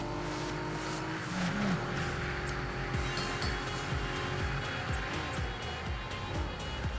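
A Z4 GT86-style car races in the Super Street game, engine droning and revving steadily throughout with shifting pitch, close and continuous, tire noise mixed in.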